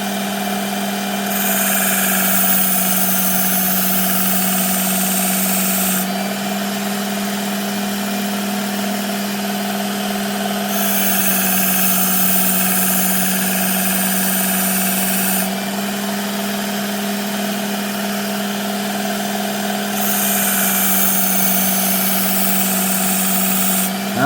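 A Work Sharp Ken Onion Elite Mk.2 belt knife sharpener runs on a fine belt with a steady motor hum, broken by three harsher grinding passes of a knife blade.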